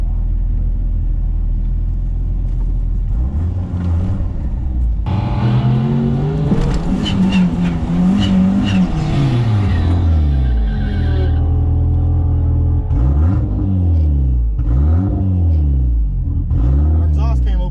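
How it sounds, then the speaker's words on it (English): A turbocharged single-cam Dodge Neon on 24x8 drag slicks races a single-cam Honda Civic at a dragstrip, engine roaring loudly and revving up through rising and falling gear changes, with someone talking over the noise. "We're gonna race a single cam Civic."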